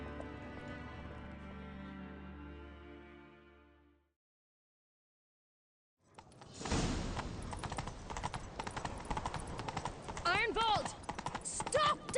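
A horse galloping in the video game The Witcher 3 sets up a quick rhythmic clatter of hooves after a tonal passage and a brief silence, with voices talking over the running.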